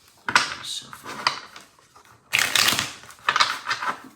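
Tarot cards are shuffled by hand in a few separate bursts of crisp riffling and flapping, close and moderately loud, with short quiet gaps between them.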